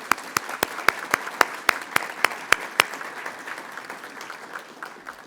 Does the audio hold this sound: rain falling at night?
no